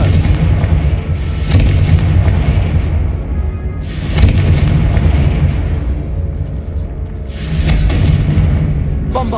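Confringo fire spell blasts in Hogwarts Legacy, three heavy booming explosions a few seconds apart, each with a rolling rumble that dies away over a loud, constant low roar, with no voices.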